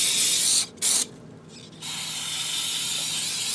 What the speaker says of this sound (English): I'll give it one final quick spray of carb cleaner.